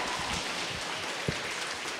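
A church audience applauds after a sermon, a dense, even patter of many hands clapping at a moderate distance, continuous with no speech over it.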